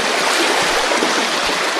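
Steady rushing and babbling of a small, hidden wild brook trout stream in Cumberland County, Pennsylvania, a loud, close, continuous wash of flowing water with no voices over it.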